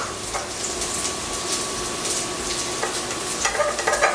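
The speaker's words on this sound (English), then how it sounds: "And then stir that up." Lemon juice being stirred into vegan sour cream in a kitchen bowl, a steady soft scraping and swishing of a utensil that continues for a few seconds with no talking.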